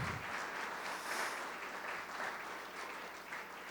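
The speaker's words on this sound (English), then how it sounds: "let's give the crew here just a super round of applause" A crowd at a University of Findlay public campaign kick-off event gives sustained, even applause that stays fairly soft and distant throughout.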